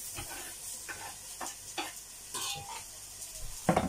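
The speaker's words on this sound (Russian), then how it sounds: "Сейчас пожарим луковицу с вами одну." Quiet sizzling of an onion frying in a pan, broken by a series of scraping stirs at a loose, irregular pace.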